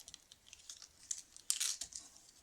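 An advent calendar package being torn open after its label rips, giving short papery tearing and crinkling bursts close by, with the loudest rip about halfway through, brief and fairly quiet.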